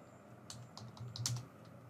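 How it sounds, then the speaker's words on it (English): Soft, quick taps on a computer keyboard, several keystrokes in an uneven rhythm, close but quiet with no talking. "I'm typing the email subject here,"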